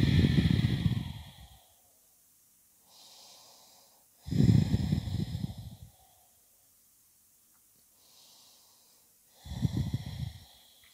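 Three long, loud, close exhalations during a yoga hip stretch, each a breathy rush with a slight snort-like edge, separated by quieter inhalations in a steady slow rhythm.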